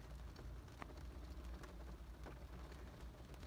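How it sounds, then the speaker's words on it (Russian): Heavy rain falls outside in a city, a continuous dense hiss with scattered drop impacts. It stays at a steady, moderately faint level with no speech. "У нас на улице такой дождь"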